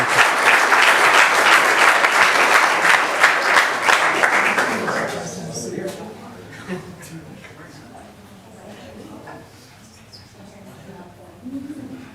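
A crowd at a board of education meeting applauds, loud and dense for about five seconds before fading into scattered claps and murmuring voices, then a brief final burst of clapping.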